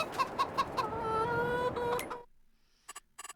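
Chickens clucking in the farming game Farming Simulator 22, a busy run of short clucks and a few drawn-out tonal calls, fairly close. The sound breaks off into near silence, and a couple of brief clicks follow.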